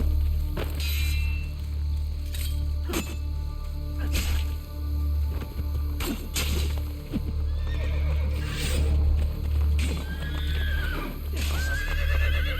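A horse in Assassin's Creed Brotherhood neighs and whinnies several times over a clip-clop of hooves and shuffling movement, with game ambience humming underneath, close and fairly loud.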